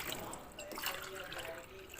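Water is poured from a glass into a pot of rice for soya bean pulao, giving a faint, brief, continuous trickle.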